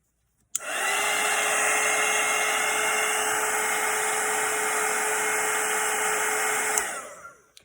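A hair dryer switched on to dry watercolour paint, a steady loud whirring blow with a high whine holding evenly for about six seconds before clicking off, close by and alone.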